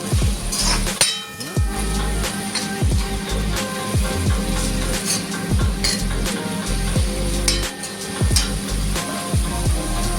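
Manchurian mixture with garam masala and salt being stirred in a metal pot, giving repeated clinks and scrapes of the spoon against the pot over a steady low kitchen hum.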